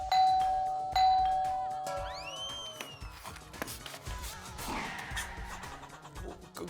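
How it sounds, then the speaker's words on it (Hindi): A doorbell rings twice with clear, sustained ding-dong chimes in an indoor setting, the tones ringing out and decaying before footsteps and household movement follow. "कोई दरवाजे पे घंटी मार रहा है"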